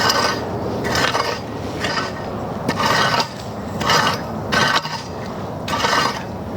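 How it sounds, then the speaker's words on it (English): Raking dry plants, old summer wildflowers, weeds and soil in a Southern Arizona garden bed, a steady close rasping scrape repeated in about five strokes with no talk. "I'm just going to rake this area up."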